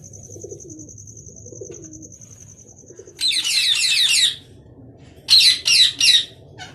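A captured pigeon held in hand at night gives several loud, close flurries of squawking and flapping-like bursts, separated by quieter stretches with a faint steady tone and low background hum.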